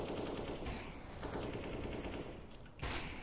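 Sustained automatic gunfire in a Counter-Strike match, loud bursts of rapid shots running continuously for several seconds with no talk.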